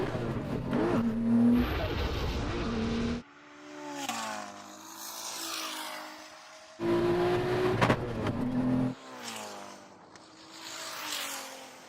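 A 3000 hp SUV and a Ferrari SF90 drag race, their engines roaring loud and rising in pitch through hard acceleration, then easing before a second strong surge, with no talk over them.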